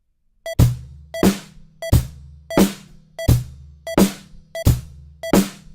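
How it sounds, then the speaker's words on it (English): A drum kit beat played deliberately behind the time, every element laid back: about eight evenly spaced hits roughly 0.7 seconds apart, each a sharp attack with a ringing low tail, close and fairly loud, with no voices. "showing you an example of playing a beat really behind, all of the elements really behind would sound like this"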